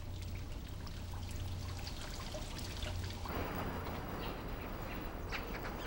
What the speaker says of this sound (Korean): 작고 가느다란 물줄기.